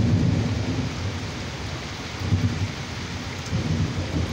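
Heavy rain pours down steadily in Georgia, a dense, loud wash with low rumbling swells that come and go, close and continuous with no voices.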